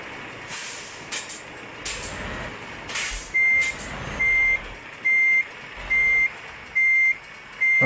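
A truck backing up a trailer in Euro Truck Simulator 2, with loud evenly spaced reversing beeps following a few air brake hisses and a low engine rumble.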